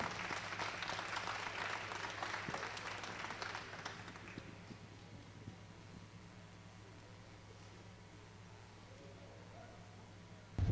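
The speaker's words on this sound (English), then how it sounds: "Let's give them a big round of applause." A large audience at an alpaca show applauds loudly with dense, sustained clapping that thins out after a few seconds, leaving a low hum and scattered faint claps.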